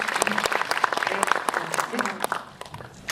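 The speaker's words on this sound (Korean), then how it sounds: "박수 부탁드립니다" An audience claps steadily through a short burst of applause at a live film talk event for a Korean movie, with voices speaking over the clapping.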